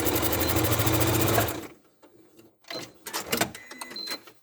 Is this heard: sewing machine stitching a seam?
yes